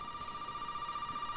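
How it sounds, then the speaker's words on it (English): A telephone rings in the video game Resident Evil 7, a faint steady electronic tone held without pause and heard alone. "Hey, the phone's ringing."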